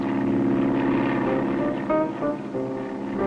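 Propeller airplane droning in flight in a 1959 Alaskan bush-pilot cartoon, a close, steady engine hum with a buzzing tone that briefly dips and wavers partway through, heard alone with no talk.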